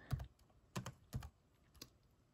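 Four sparse, soft keystrokes on a computer keyboard, spaced unevenly, quiet and close against a near-silent background, with no talking.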